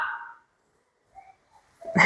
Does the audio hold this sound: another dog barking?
yes